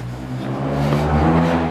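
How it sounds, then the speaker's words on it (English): A loud car engine roars steadily nearby, a low throaty rumble that swells slightly as it passes on the street. "Oh, that is a loud car."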